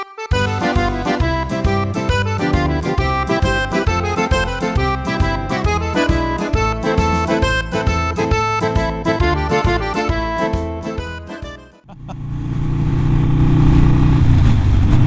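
A Harley-Davidson Sportster 48 motorcycle engine throbs loudly and rhythmically while riding on a bending road, passing cars, with its rumbling pulses shifting as it goes, then abruptly giving way to a steady rushing wind-like roar.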